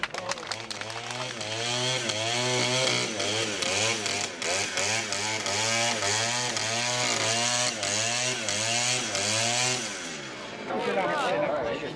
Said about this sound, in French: il appartient aux bûcherons de faire parler leur tronçonneuse